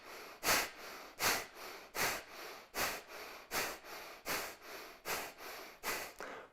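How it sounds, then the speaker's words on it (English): Breath of fire yoga breathing, with rapid, forceful nasal exhalations pumped from the navel in an even rhythm of about two per second, close and clear, without talk. "Begin breath of fire."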